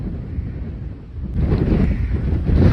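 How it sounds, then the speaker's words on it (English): Wind buffeting a camera microphone at a windy coastal spot where seawater rushes through, giving a low, rumbling roar that surges louder partway through. "the wind is blowing the camera everywhere"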